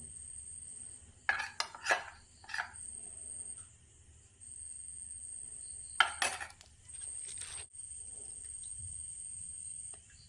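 Hide and Seek biscuits are stirred into milk for a homemade banana milkshake, with a few quiet clinking and scraping bursts against the container in two short spells amid near silence.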